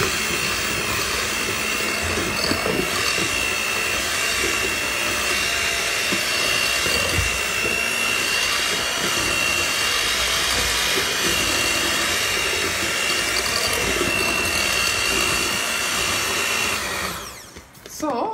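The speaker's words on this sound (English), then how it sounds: "we are going to start on low with my my mixer" An electric mixer whirs on low speed while pumpkin bread batter is mixed, a loud and steady motor hum close by that runs for the whole stretch, with a clunk as it winds down at the end.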